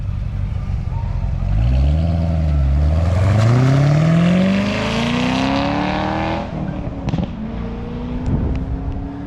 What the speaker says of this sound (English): Just watching cars leave out here, do what they can.